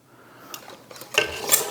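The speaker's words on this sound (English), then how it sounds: "And after we wipe these clean, we put our lids on." Metal canning lids are set onto jars of apricot jelly in a kitchen, with a couple of soft taps followed by brighter metallic clinks and scrapes close by.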